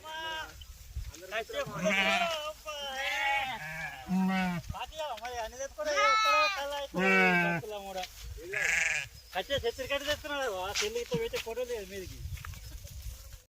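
Sheep bleat repeatedly in wavering, nasal calls, several animals overlapping close by, with a few gaps between bursts.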